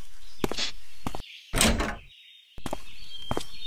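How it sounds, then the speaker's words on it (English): A door in the pixel-art game A Bird Story shuts with a solid thunk and then clicks locked, a short burst amid soft game music, followed by quiet and the music returning. "Oh no, she locked the door."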